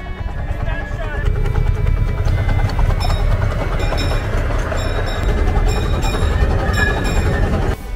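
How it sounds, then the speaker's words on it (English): A miniature railroad train ride on the Hillcrest and Wauwatosa Railroad at a pumpkin patch gives a continuous rumbling clatter with faint whistle-like tones. A voice talks over the train throughout. "let's go for a ride on the Hillcrest and Wauwatosa Railroad"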